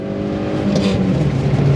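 A Holden Barina with a 1.6-litre 76 kW engine and five-speed manual gearbox accelerates hard, its engine note climbing in pitch as it revs up close and loud.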